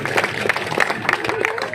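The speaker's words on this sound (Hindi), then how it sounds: "ताली" Clapping from a crowd at a Congress party political rally, steady and fairly loud, with a voice carrying over it.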